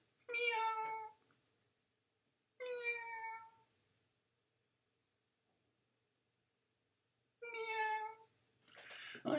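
A cat meows three times, each cry long and clear with pauses of a few seconds between, close and alone, with a brief bump of handling noise at the end.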